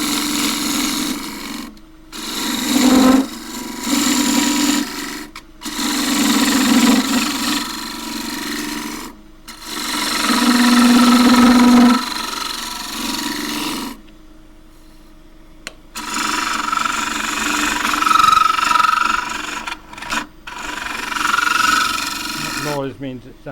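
Wood lathe turning a piece of quilted tiger myrtle, a steady rubbing, rasping whir in sustained bursts broken by short pauses, with someone talking over much of it.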